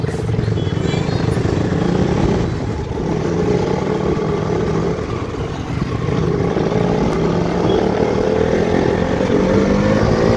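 A KTM motorcycle engine drones steadily in second gear while riding, loud and continuous with wind rush over it and a brief dip midway, with a voice talking faintly under the noise.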